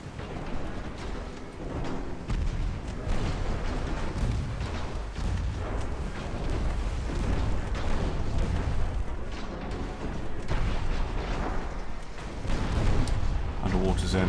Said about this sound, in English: There's a torpedo.